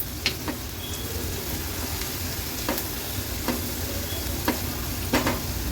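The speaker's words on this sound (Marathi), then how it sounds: "पुन्हा एकदा थोडं परतून घेते" Vegetables with lemon and sugar being sautéed and stirred in a pan for an Agri-Koli style veg thali: a steady soft sizzle with a few sharp scrapes of the spoon, quiet and close, without talk.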